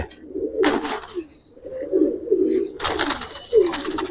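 Caged giribaz and coloring pigeons coo in low, throaty, rolling calls close by, broken by short bursts of rustling and wing flutter.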